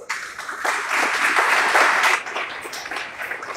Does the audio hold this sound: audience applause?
yes